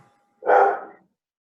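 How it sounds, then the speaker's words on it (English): A single short dog bark, a loud close woof lasting about half a second, with silence on either side. "that's the dog barking"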